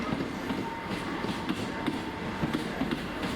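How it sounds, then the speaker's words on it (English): South Western Railway train on the London Waterloo service pulling out of Exeter St David's, heard from on board as a steady rumble with rhythmic clickety-clack of wheels over rail joints. "Here the train leaves Exeter St David's and prepares to cross the Red Cow level crossing"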